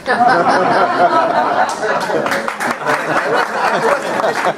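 Dense, sustained audience applause fills a town hall on campus free speech. The clapping is mixed with crowd chatter and scattered laughter and stays fairly loud throughout.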